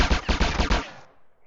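Rapid machine-gun fire from a video game, a loud dense burst of repeated shots lasting under a second, then a short fading echo tail into quiet.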